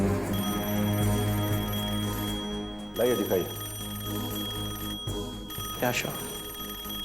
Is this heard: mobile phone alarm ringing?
yes